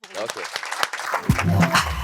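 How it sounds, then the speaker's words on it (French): Applause from a TV debate show's audience breaks out partway through, rising after a voice speaks and continuing as a steady clatter of clapping. "Mais on applaudit"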